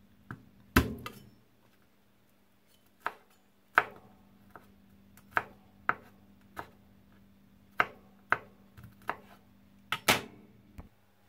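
Garlic being chopped finely with a knife, a series of sharp, close knife taps on a board, irregularly spaced with pauses between, about a dozen strokes with no talking.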